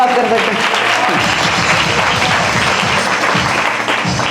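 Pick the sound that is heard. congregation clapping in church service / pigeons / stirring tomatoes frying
congregation clapping in church service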